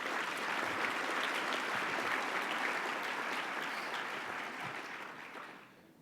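Sustained applause from a large audience at a mayor's 100-days speech in Long Beach, honoring the Port of Long Beach; dense, steady clapping that holds loud for about five seconds, then fades out.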